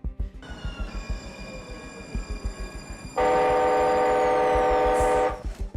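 An oncoming train rumbles with clacking wheels, then its horn blasts in one long, loud sustained tone before cutting off as the rolling clatter continues.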